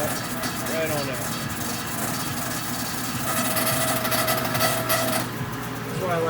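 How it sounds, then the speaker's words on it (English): A COATS HIT 5000 heavy-duty tire changer runs with a steady mechanical hum while its hydraulic clamps close, giving a continuous machine drone with shifting whine and some clanks, nearby and fairly loud throughout. "you can turn the machine back on and try and close the clamps"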